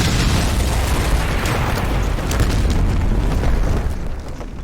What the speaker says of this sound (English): the explosion shattered the night